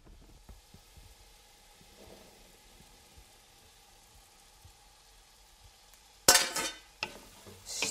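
Currants and gooseberries being stirred in a pan, heard as faint soft stirring and light bubbling, then a sudden louder scrape and clatter near the end.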